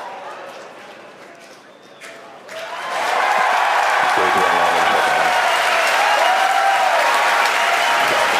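Crowd cheering and applauding at a SpaceX Falcon 9 rocket landing, a loud roar of claps and shouts that erupts suddenly and sustains, following calm speech.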